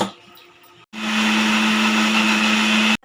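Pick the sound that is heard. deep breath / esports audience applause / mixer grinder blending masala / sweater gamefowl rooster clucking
mixer grinder blending masala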